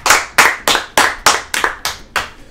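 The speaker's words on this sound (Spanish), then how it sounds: "Un aplauso para Heidi." Eight or nine sharp hand claps in a steady rhythm, close and loud, with no other voices, applauding a contestant named Heidi.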